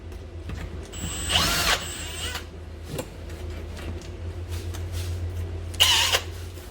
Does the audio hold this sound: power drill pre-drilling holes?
yes